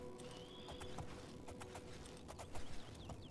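Rapid hoofbeats of a horse galloping in the video game The Elder Scrolls IV: Oblivion, a quick irregular clatter of hits over a faint background hum, with a snort or whinny near the end.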